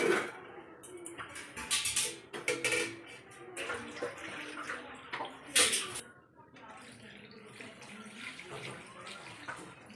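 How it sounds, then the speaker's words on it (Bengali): Water poured into a pot of chicken curry with potatoes, splashing and gurgling in uneven bursts up close, with clinks of the pot and faint talk in the background. "হয়ে গিয়েছে, এবার আমি জল দিয়ে দেবো।"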